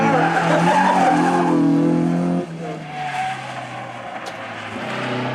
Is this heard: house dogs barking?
no